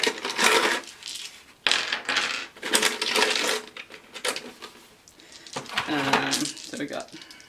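Plastic dice from a Dice Thrones Adventure board game box clatter as they are poured out, a rapid cascade of close, bright rattling clicks in several bursts, with a voice speaking briefly in between.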